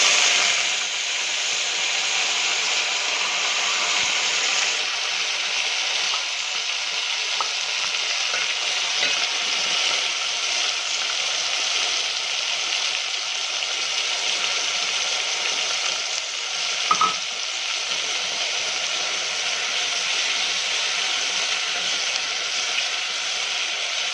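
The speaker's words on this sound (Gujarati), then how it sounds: "લસણને આપણે તેલમાં સારી રીતે શેકાવા દેવાનું છે" Green garlic and spices roasting in hot oil for a Kathiyawadi tuver thotha dish, giving a steady, close, continuous sizzle and fry hiss throughout with a brief stir clink near the end, no voices.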